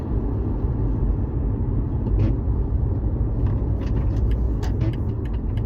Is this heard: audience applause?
no